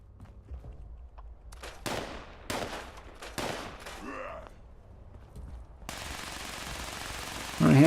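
Gunfire in the video game Fallout 76, with a scatter of distant shots followed by several sharp, close bursts of automatic fire, then a long steady rushing noise that swells louder at the end.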